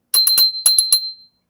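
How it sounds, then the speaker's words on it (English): A small Wedgwood Kutani Crane bone china bell rings alone, with six quick, bright strikes in two groups of three and a clear ringing tone that decays briefly after the last strike. "the Wedgewood Katani Crane Bell. So that is Wedgewood,"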